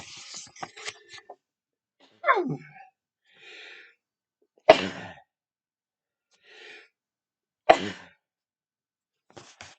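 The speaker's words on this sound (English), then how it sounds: "I end up sneezing." Two sharp, explosive sneezes break through, each preceded by a quick intake of breath, with soft sighs and brief speech around them.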